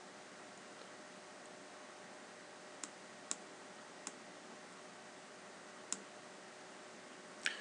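A computer mouse clicks while someone works in Pro/ENGINEER CAD software, giving about five faint, sharp, isolated clicks spread over a quiet background hiss.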